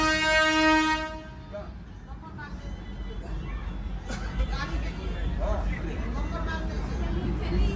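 The Darjeeling toy train sounds a loud, long horn blast, then rumbles steadily as it pulls away, with people chattering throughout.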